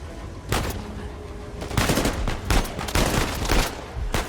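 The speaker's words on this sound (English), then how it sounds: "wave after wave of enemies shoot down on you" Enemy gunfire during a cramped elevator fight in Uncharted 4 on its hardest difficulty: loud bursts of rapid shots and scattered single cracks fired in waves, dense and close, overlapping one another with almost no quiet between volleys.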